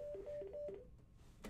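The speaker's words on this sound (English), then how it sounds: "Sorry, that was a phone." A telephone sounds indoors as a quick run of short, clean electronic tones in a regular pattern, quiet and close, followed by a brief soft knock.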